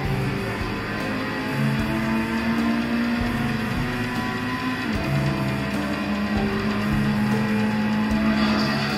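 Car engine droning steadily while driving in Gran Turismo, running on a Steam Deck, a continuous mid-level hum with gear-like pitch steps and no talk.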